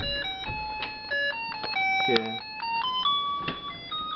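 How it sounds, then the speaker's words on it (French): A homemade electronic doorbell plays a simple beeping melody, clear tones stepping from note to note with faint clicks between them. "je me suis fait une sonnette parce que j'ai pas de sonnette. Donc quand j'appuie,"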